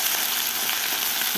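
Potato pieces and garlic frying in oil in a pan, giving a steady, dense sizzle heard close up and continuous, with no talk over it.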